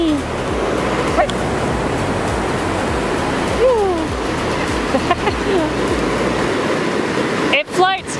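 Ocean surf rolling onto a beach makes a steady broadband wash throughout, with a dog yelping and whining briefly over it and a short bark near the end.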